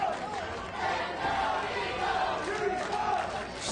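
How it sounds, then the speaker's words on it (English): Wrestling arena crowd at an NWA TNA match keeps up a loud, continuous rhythmic chant, a dense mass of voices rising and falling with steady pulses throughout. "That's what's turned this crowd in favor of the disciples of the new church as they continue the chant of"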